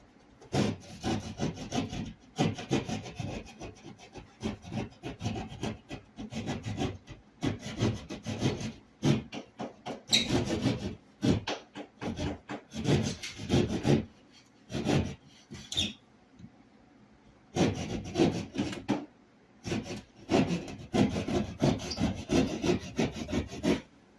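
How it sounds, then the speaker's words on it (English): A hand saw cuts through drywall in bursts of rough, rasping back-and-forth strokes, close and fairly loud, with short pauses between runs of sawing. "So we're going to see how it cuts in drywall."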